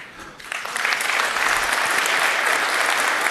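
Audience applause at a networking conference, a dense, loud wash of clapping that swells quickly after a quiet start and holds steady to the end.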